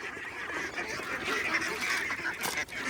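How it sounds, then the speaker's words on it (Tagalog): A flock of domestic ducks coming back home, a continuous overlapping chorus of honking quacks at moderate distance with no voices. "Sa wakas po ay umuwi na ulit ang mga itik."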